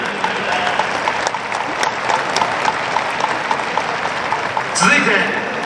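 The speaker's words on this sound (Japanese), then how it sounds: "皆様どうぞ大きな拍手をお送りください" Stadium crowd at a J1 football match applauds the high school ball persons before kickoff, a broad, steady wash of clapping across the stands with a PA voice and distant crowd noise underneath.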